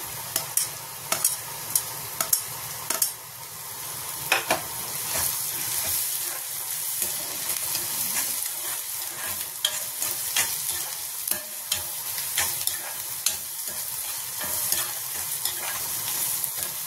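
Onion, chillies and finely chopped fenugreek leaves sizzle steadily in a cast iron kadai, with repeated sharp scrapes and taps of a spatula stirring, fairly close and free of talk.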